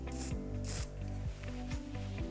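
Two short, bright hisses from an aerosol can of hair wax spray sound close by, over a low mechanical hum with repeating tonal sweeps.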